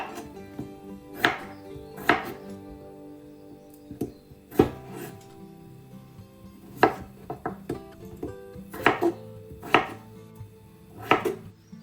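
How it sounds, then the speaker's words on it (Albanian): Seven potatoes are cut with a knife on a cutting board, giving irregular sharp chopping knocks spaced a second or so apart. The sound is close and clear over a quiet kitchen background, with no talking. "do të na duhen 7 patate, të cilat do t'i presim siç e shikoni edhe në video"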